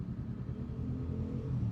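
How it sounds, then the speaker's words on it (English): An Aprilia motorcycle engine rumbles steadily at low pitch, close by and fairly even throughout with no talk over it. "Oh, that Aprilia sounds so nice."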